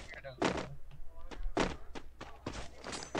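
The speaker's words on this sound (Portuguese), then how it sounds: "um tiro na pedra" Gunshot impacts striking a rock during a Free Fire match land as several sharp, loud thuds spaced irregularly, with a voice talking over them.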